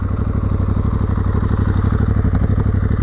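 A new Aprilia Tuareg 660 motorcycle being ridden, its engine running in a close, steady drone with a fast, even pulse throughout, plus a faint clatter near the end.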